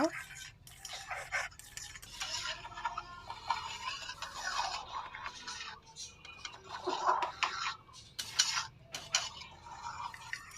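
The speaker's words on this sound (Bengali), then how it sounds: "ঘি দিয়ে আমি এখন ভালো করে মিশিয়ে নেব" A spoon scrapes and clinks against a pot as cooked rice is mixed with ghee and katla fish head for muri ghonto, with irregular close clatters and stirring scrapes over the full stretch.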